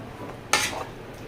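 A brief metallic scrape of a spoon against a pot of Indian-style chicken gravy, one quick stir heard close up over a quiet background.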